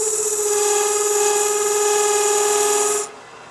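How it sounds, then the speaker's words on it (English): A scraper cuts grooves into a turning wooden rolling pin, a bright, sustained whining hiss with a steady tone that stops abruptly near the end, heard alone at close range. "scraping grooves in here, I can make this rolling pin into a pasta maker, a pasta cutter"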